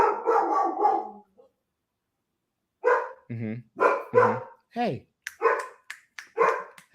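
Guard dogs barking in a home during a podcast interview, several sharp barks and yips coming in bursts after a stretch of speech, with a person talking between and over them.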